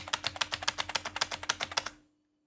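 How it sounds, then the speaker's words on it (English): Rapid keyboard typing during a PS4 game stream, with about twenty crisp key clicks in a fast, fairly even run. The clicks are close and loud over a faint steady hum, then stop abruptly into silence. "I never thought my typing would ever actually be that fast."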